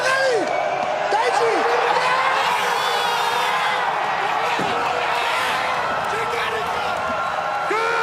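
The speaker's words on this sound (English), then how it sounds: "The entire crowd going nuts" A weightlifting crowd at the 2017 World Championships men's 105+ kg clean and jerk roars continuously, loud sustained cheering with whoops and shouts across the whole stretch.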